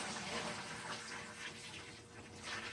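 Water poured from a bucket into a big pot on a stove, a soft continuous gushing and splashing that rises and falls, faint and close.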